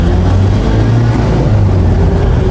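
Toyota Quantum 2.5D diesel minibus engine pulling in gear, a steady loud low drone with a constant hum running through, close up and without a break in its pitch.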